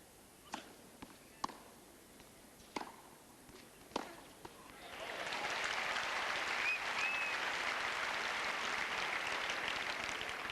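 At a tennis match between Edberg and Karbacher, a few sharp ball bounces and thuds give way to a swelling burst of crowd applause that holds steady and full for several seconds.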